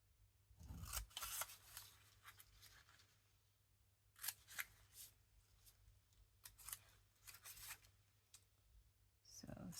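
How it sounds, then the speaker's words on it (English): Scissors snip a number out of a paper book page in short clusters of close, crisp cuts and rustles separated by quiet gaps, with occasional soft talking. "We'll just cut out a number here."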